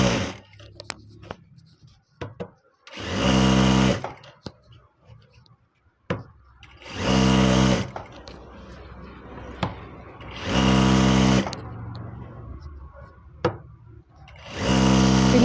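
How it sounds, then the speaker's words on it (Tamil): A sewing machine stitches a fall onto a saree in four loud, close bursts of rapid whirring, separated by quieter pauses filled with small handling clicks and fabric movement. "ஓகே, தைக்கிறது பாருங்கள்."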